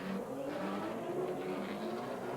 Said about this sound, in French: Et voilà maintenant Ragnotti qui vient de passer la Mercedes de Cudini